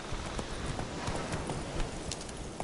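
Roach, a horse in The Witcher 3, gallops at a quick, even clip-clop rhythm. The hoofbeats are moderately close and continue steadily without pause.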